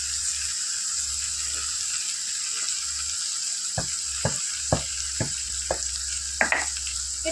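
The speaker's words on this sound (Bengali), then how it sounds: "আমগুলোকে দিয়ে এটাকে এবার ভালো করে ভেজে নেওয়া হবে" Dried mangoes fry with jaggery in a pan under a constant hiss of sizzling, while a spoon scrapes and taps in a series of short strokes during the second half.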